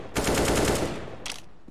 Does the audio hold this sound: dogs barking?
no